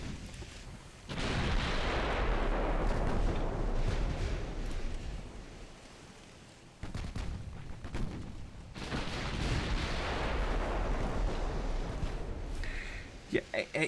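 Naval artillery hits in the game Ultimate Admiral Dreadnoughts: long, heavy rumbling booms that swell and fade in two big waves, with someone talking over them.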